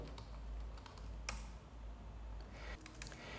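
Quiet, steady typing on a computer keyboard while writing HTML in a code editor, a dense run of soft key clicks with a few sharper taps, close and alone with no voices.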